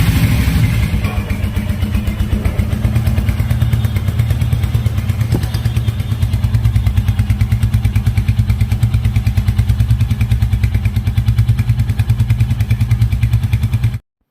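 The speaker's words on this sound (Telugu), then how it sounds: "మీకోసం ఇప్పుడు ఇంజన్ సౌండ్ కూడా వినిపిస్తున్నాను" A 2025 Royal Enfield Hunter 350 single-cylinder motorcycle idling close up, a steady even thump of the engine running for the whole stretch without talk.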